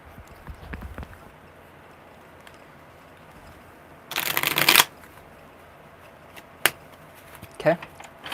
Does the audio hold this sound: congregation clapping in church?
no